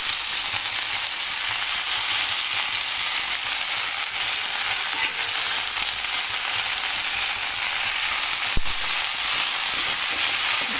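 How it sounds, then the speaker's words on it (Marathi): Chopped safflower greens added to onion frying in oil give a loud, steady sizzling hiss throughout, with one sharp click near the end. "आता आपण चिरलेली आपली जी भाजी आहे करडईची ती टाकून घेऊया।"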